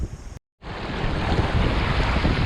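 Loud, continuous rush of ocean waves breaking at a sailing boat's stern and wind buffeting the microphone, with a brief silent gap near the start before the roaring water noise resumes.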